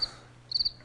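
A cricket chirps in two short bursts, one at the very start and a quicker cluster of three pulses just past the midpoint, thin and fairly faint over a quiet background.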